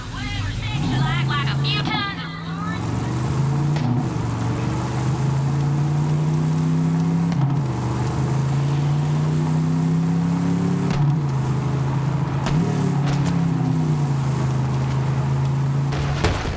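A vehicle engine drives along in Borderlands 3, a loud, close motor drone whose pitch climbs and dips through gear-like shifts, with a brief voice at the start.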